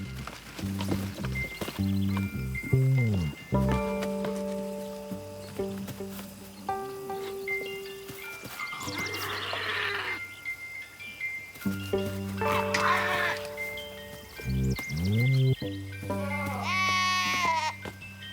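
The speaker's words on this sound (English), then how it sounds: "These are myotonic goats, also known as fainting goats." Myotonic fainting goats bleat loudly and repeatedly at close range, drawn-out wavering calls overlapping one another, with rustling movement between the cries.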